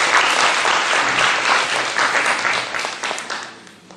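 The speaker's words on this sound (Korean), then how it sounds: "참 부모님께 큰 박수 다시 한번 부탁드리겠습니다." A church congregation at a Sunday worship service applauds loudly and steadily, a dense wash of many hands that fades gradually toward the end.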